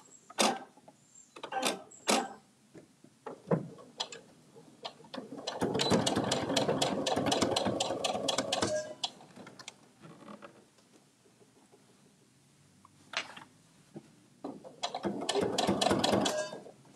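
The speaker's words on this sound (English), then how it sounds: "So I'm just top stitching the binding." A sewing machine top stitching binding on a bag, running in bursts of rapid mechanical stitching with quiet pauses and clicks between them, close by.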